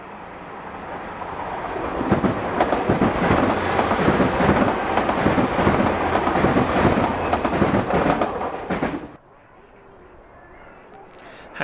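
A Class 802 IET train on a local Penzance to Plymouth service roars past close by. It swells into a loud, steady rumble with rail clatter for about nine seconds, then cuts off sharply, leaving quiet background.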